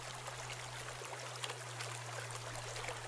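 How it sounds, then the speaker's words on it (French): A river flows in a soft, steady trickling wash, faint and continuous, with a constant low hum beneath and no voices. "Avec son rythme implacable, la rivière ferait pâlir les musiciens les plus rigoureux."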